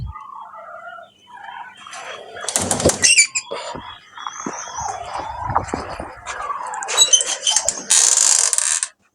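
A female black-shouldered peafowl flaps its wings in several loud, close bursts of rapid beating, separated by quieter rustles and knocks.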